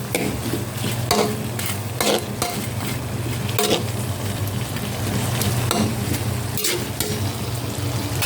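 Butter shrimp sizzles with garlic in a hot pan, a steady, close frying hiss broken by occasional stirring scrapes and light utensil clinks throughout.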